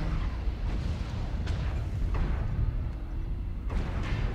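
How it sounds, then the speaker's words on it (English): Airstrike explosions in the mech combat game MechWarrior Online: a continuous rumbling barrage of booms and bursts, several sharp blasts standing out over the dense low roar, with no talk. "Airstrike on."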